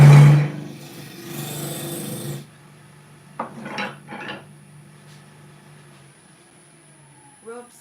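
A woodturning tool scrapes into the spinning centre of an olive ash bowl on the lathe, a rough rasping burst at first, then a quiet hum broken by a few short scratchy cuts.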